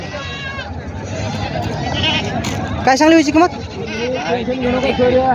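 Goats bleating among traders at a busy Saturday goat market in Gangakhed, several loud wavering bleats near and farther off over crowd babble, with someone talking throughout.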